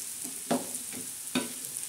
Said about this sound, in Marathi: लसणामध्ये ह्या कांद्यामध्ये आणि मिरच्यांमध्ये आपण हळद अशी चांगली टाकून अशी त्याला फ्राय करून